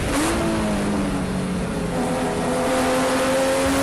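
A Spec Boxster race car engine at Watkins Glen during a PCA club race, droning loudly and continuously as it revs steadily, with a rising then sustained tone and no talk over it.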